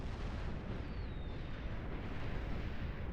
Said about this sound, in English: Commence the counter battery fire.